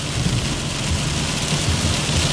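Heavy rain falls steadily in a storm at an outdoor car collection, a dense, loud, unbroken hiss of drops that fills the scene with no voices.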